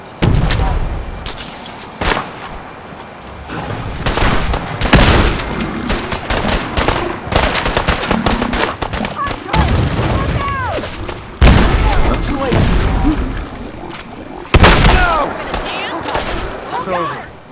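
Heavy gunfire in Fallout 4 as defenders fire on Gulpers coming out of the fog: dense, loud volleys and bursts of shots with booming impacts, repeated throughout, over battle noise and shouting voices.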